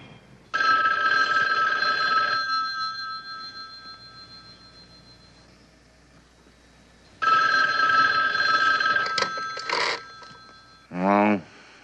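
A telephone rings loudly in two long electronic-bell bursts separated by a quiet pause, followed by a short clatter and a brief rising tone, with no talking over the rings.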